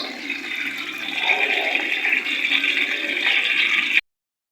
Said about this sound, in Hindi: प्याज का तड़का मैं लगाती हूँ गुड़ वाले चावलों में और सौंफ का